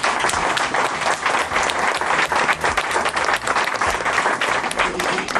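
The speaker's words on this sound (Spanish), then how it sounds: "Un fuerte aplauso para Eduardo." At a book presentation in Valencia, an audience gives a strong, sustained ovation: dense, even clapping from a sizable crowd filling the room throughout.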